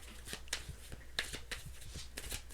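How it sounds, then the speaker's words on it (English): Cards shuffled by hand in a few brisk strokes, soft papery riffles and slaps spaced roughly a third of a second apart, close and fairly quiet with no talking. "Two more shuffles."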